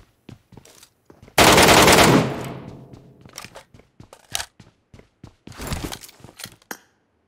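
Gunfire in the Metro Royale shooter game: a loud, dense automatic burst lasting under a second, followed by scattered sharp single shots and crunchy clicks, plus a second cluster of rapid shots near the end.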